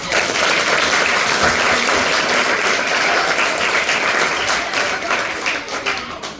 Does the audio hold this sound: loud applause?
yes